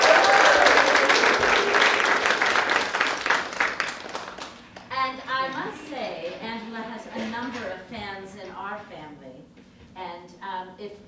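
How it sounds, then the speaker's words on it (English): An audience applauds Angela Watson at a Friday night talent show, with loud, dense clapping that fills the first few seconds and then fades as a voice speaks over the tail end. "round of applause"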